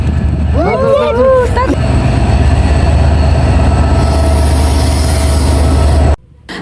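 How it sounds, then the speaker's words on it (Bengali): A train pulls into a station, a loud, steady rumble with a brief high wheel squeal early on, close by with voices in the background, before the sound cuts off abruptly near the end. "ট্রেন আসছে বাবা, ট্রেন আসছে।"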